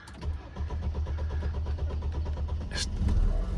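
Fiat 500 Abarth engine cranking repeatedly without catching, a steady rhythmic churn of the starter that carries on for several seconds, close and fairly loud, with a brief electronic chirp near the end.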